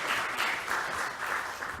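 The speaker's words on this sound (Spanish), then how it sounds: "Un fuerte aplauso, por favor." Steady applause from a lecture audience greeting a speaker on extrajudicial conciliation, dense even clapping at a constant moderate level throughout with no voices.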